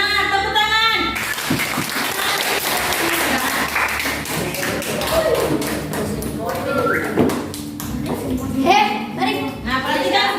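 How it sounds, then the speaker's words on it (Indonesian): Classroom of children clapping together, a mix of sharp claps and scattered thuds, with kids' voices and a teacher's talk over parts of it. "Tepuk tangan."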